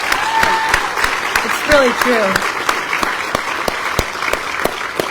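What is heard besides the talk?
round of applause for Carolyn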